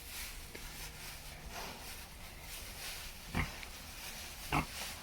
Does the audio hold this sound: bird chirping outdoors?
no